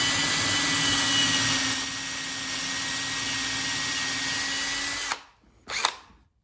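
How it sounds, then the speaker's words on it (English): A power drill bores pilot holes into wood for a homemade router plane, a steady loud whine running about five seconds before spinning down, followed by one short burst. "And I'll drill those holes that depth right there."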